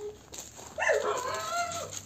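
A young Georgian shepherd (nagazi) puppy lets out a few close, high whimpering yelps, rising and falling over about a second, with some soft background noise.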